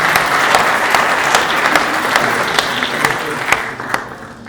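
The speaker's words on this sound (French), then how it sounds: "On peut les applaudir." Audience applause at a Normandy National 3 football trophy ceremony, a steady dense clapping from a crowd with sharper individual claps standing out, easing off slightly toward the end.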